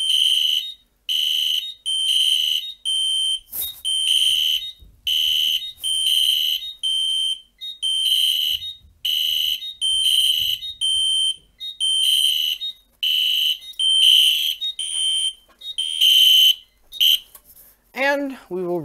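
A fire alarm panel alarm sounds during a wall test, a loud repeating electronic beep-tone in rapid on-off bursts that drift slightly out of sync, ending with a brief rising chirp.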